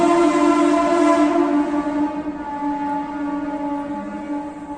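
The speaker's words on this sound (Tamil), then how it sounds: "கொஞ்சம் ட்ரெயின் கொஞ்சம் அப்பப்போ போயிட்டு வரும்" A train runs along a nearby railway track, giving a loud, sustained horn-like tone with layered harmonics that holds for several seconds and then fades slightly, with no talk.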